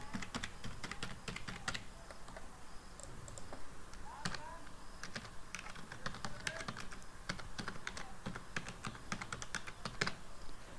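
Keys on a computer keyboard clatter in quick irregular bursts while form details are entered, crisp, close clicks with short pauses, quiet and without talk.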